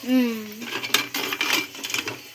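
A brief voice at the start, then metal clinks and scrapes as an idli stand is set down inside a metal pot, several light clanks in quick succession.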